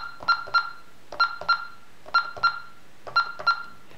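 Honeywell alarm keypad emitting paired dual-tone beeps while a phone number is keyed in, four evenly spaced pairs of short, clear tones, fairly close, with no talking.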